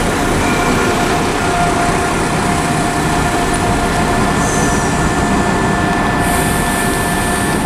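A train at Birmingham Snow Hill station, a loud continuous rumbling roar of rolling stock close by, with faint high squeals rising near the end.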